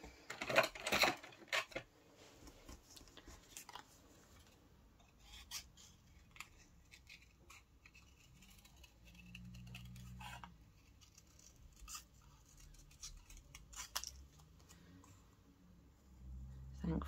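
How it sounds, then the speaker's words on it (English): Scissors fussy-cutting a paper shape for a crafted table setting, giving sparse short snips and rustles of paper at close range, with quiet handling noise between cuts. "And then we need to fussy cut this one out."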